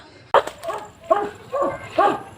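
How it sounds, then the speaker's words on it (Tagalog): A dog gives a series of yelping barks and whines, four or five bursts spaced roughly half a second apart, fairly close over light background noise. "May aso pa dito guys."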